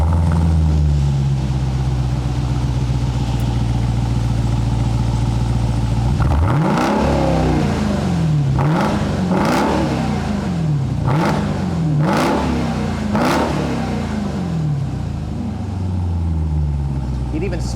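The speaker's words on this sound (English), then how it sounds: "Let's go ahead and fire it up." A 2021 Dodge Durango SRT Hellcat with its supercharged V8 idles low and steady, then catches and roars through a series of sharp, loud revs that rise and fall before settling back to a rumbling idle, close by.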